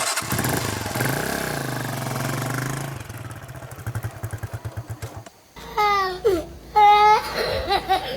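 Motorcycle engine revving on a ride near the Kagera River, loud and close with a throbbing low pulse, dropping to a rhythmic putter before a short gap and then higher whining, wavering tones.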